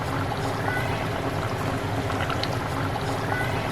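Water is flicked in splashes onto boiling sugar syrup for rasmalai on a high flame, giving a continuous bubbling, sizzling wash with small spatters, moderately loud and steady with no talking.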